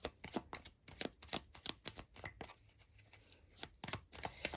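A deck of Starlight tarot cards is shuffled by hand in a quick run of crisp, riffling bursts, close and fairly loud, pausing briefly midway before resuming, with no voices.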